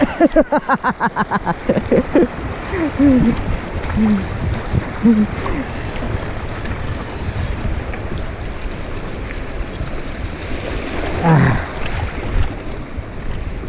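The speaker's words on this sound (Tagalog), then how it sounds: "Lakas ng agos." Rushing river water pours past at Mabatu Falls in a steady, dense roar mixed with wind buffeting the microphone, loud and close, with a few brief vocal exclamations over it.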